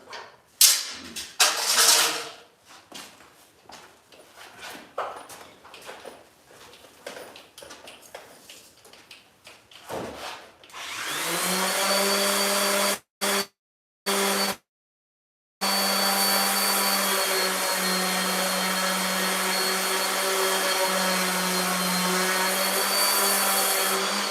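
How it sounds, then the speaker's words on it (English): In a garage workshop where stairs are being built, a sander starts up after a stretch of clattering handling noise, stutters on and off a few times, then runs as a loud steady whine alone. "Bring that sander right over here."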